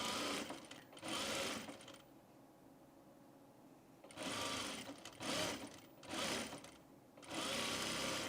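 A sewing machine stitches bias binding onto men's pants for a Hong Kong finish, running in several loud bursts of fast whirring separated by short pauses.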